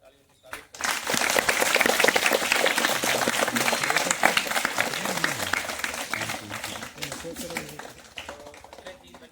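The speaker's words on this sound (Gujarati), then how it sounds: "એમનું પણ આપણે જોરદાર તાળીઓથી સ્વાગત કરીએ." Loud, sustained applause from an audience welcoming guests at a school Independence Day (15 August) event, steady clapping from start to finish after a brief quiet opening, with voices mixed into the crowd noise.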